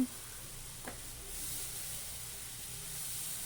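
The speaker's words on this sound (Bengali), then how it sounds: "মশলাটা যতক্ষণ কষছি" Spice masala with chilli powder fries in oil in a pan, a close, steady hiss and sizzle that swells slightly after a faint clink near the start, with no talking.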